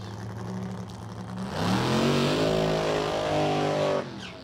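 A brand new race car revs up and accelerates, its engine note climbing loudly and close before cutting off near the end.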